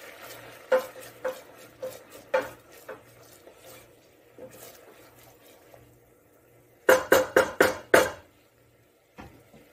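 Sherry cooking off in a pan for lobster casserole, with a soft simmer beneath repeated scraping and clinking of a utensil against the pan, including a quick burst of several sharp knocks near the end.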